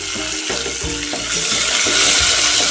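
A single onion frying with curry leaves and small onions in a pan, a steady broadband sizzle with a few stirring scrapes, growing slightly louder toward the end, close and without talk.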